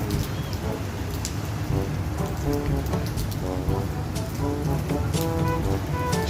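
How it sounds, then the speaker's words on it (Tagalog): Steady rain during a thunderstorm in the UAE, a dense continuous hiss of drops on surfaces with low rumbling underneath, fairly close and constant throughout; a voice is faintly present in the background. "It's a thunderstorm."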